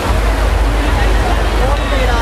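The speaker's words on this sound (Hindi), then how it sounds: "इधर का बहाव ना अलग ही लेवल का है, मतलब बहुत तेज गंगा जी साइड में बहती है।" Fast-flowing Ganges river water rushes near Dhanush Bridge in Haridwar as a loud, dense, continuous roar of broadband noise with a heavy low end and no distinct breaks.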